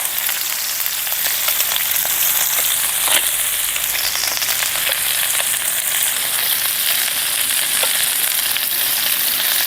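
Chopped onion fries in olive oil in a pan with a loud, continuous sizzle and crackle, with occasional clicks of stirring throughout.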